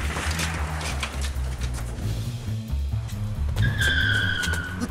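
Car skidding in a cartoon scene, a loud, close rumble of engine and tyre noise with a sharp squeal near the end, no speech over it.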